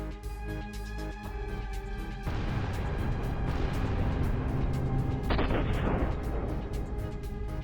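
A military tank in a convoy in the war in Ukraine hits a mine and detonates, giving a loud, deep rumbling blast that swells midway and is followed by sharp crackling secondary bursts and a lingering roar.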